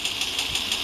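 A motorbike engine in the Mini Militia video game, a steady mid-pitched buzzing drone with a faint regular pulse, continuous and fairly loud for under a second.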